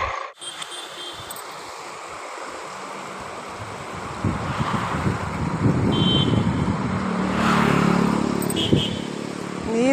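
A rain-swollen stream near Dharmasthala rushes steadily after heavy rain, a broad continuous wash that grows fuller and louder midway, with wind noise over the top.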